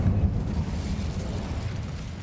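An Incendio fire spell blast in Hogwarts Legacy, a dense, rumbling burst of flame that roars loudly at first and holds steady as a broad whooshing rush without any voice.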